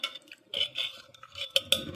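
Cooked dal is whisked and mashed in a metal pot for drumstick amti, producing irregular scraping swishes and sharp little clinks of the utensil against the pot, close and without speech.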